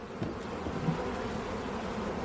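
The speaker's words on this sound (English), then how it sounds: "all these bees are flying around" Honeybees swarm around beekeepers at an open hive, filling the air with a dense, continuous buzzing drone, close and steady, with no talking.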